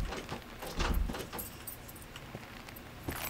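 Keys jangle and clink in a horror game as a pursuer in a cursed bathhouse tries one key after another, in several short irregular bursts at moderate distance with no talking.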